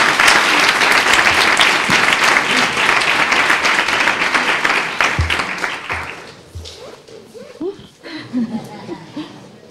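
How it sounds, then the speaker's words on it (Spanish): A school audience at the Alfil 11 presentation at IES Gonzalo Torrente Ballester gives loud, sustained applause that thins and fades after about six seconds, leaving scattered chuckles and murmured talk. "Si le aplaudimos se anima"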